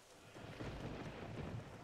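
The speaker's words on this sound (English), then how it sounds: "It's storming with some cool lightning" A thunderstorm in the video game Legend of Zelda: Wind Waker gives off a steady, low, rumbling roar of thunder mixed with rain, continuous and fairly quiet throughout.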